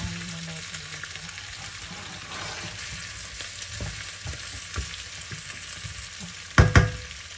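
Garlic frying in a pan for pork beef steak, a continuous close sizzle with occasional stirring scrapes and a brief louder clatter near the end.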